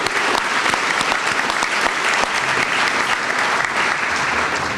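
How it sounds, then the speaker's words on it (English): An audience at an annual meeting applauds to thank the sponsors, a dense, steady wash of many hands clapping at close range that holds loud and even for several seconds. "I would appreciate you giving them a round of applause to thank them for their support"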